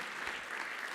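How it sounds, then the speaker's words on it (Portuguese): Dense audience applause at an urban planning seminar in Portugal, a brief continuous burst of many hands clapping at a steady, moderate level with no voices on top. "Uma salva de palmas, José, muito obrigado."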